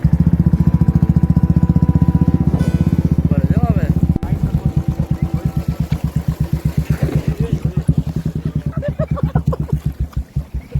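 A motorcycle engine idling and revving on a slippery forest road near a temple, loud and close, its throbbing pulse slowing toward the end, with someone talking over it.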